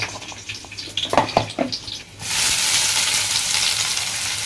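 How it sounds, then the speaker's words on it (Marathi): Ground onion and coconut masala hits hot oil in a pan with a sudden loud, steady sizzle that carries on after a few soft clinks and stirring sounds. "चला मस्त कांदा व्यवस्थित परतून घेऊ"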